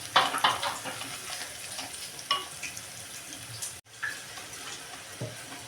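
A spoon stirs a sizzling pan of spiced ivy gourd curry with chili powder, coriander-cumin powder and salt, cooked without water: close scraping strokes over a steady frying hiss, with a few sharper clinks of the spoon against the pan.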